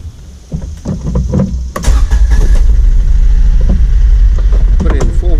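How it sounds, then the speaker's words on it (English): A Kawasaki Mule utility vehicle's engine revs up and then holds a loud, steady drone as it climbs gravel in four-wheel drive low range, with a person talking briefly. "Put in four-wheel drive and low range for this first climb of the gravel."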